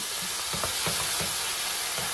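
Sauce-coated dish frying in a pan over high heat, stirred with a utensil: steady sizzle with repeated scraping strokes, no voices.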